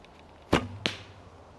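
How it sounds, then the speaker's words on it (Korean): A heavy 30-inch, 500-spine fiberglass arrow leaves the bow with a sharp crack, then strikes the target with a second distinct thud about a third of a second later, both loud and close with no talk. "쏘고 나서 슝 턱 한참 있다가 타겟에 맞는 소리가 납니다"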